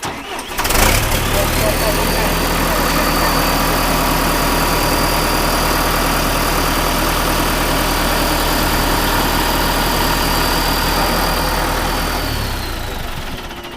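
Engine cranked with a key catches after a brief crank and settles into a loud, steady idle with a high whine on top, close by, running about twelve seconds before cutting off.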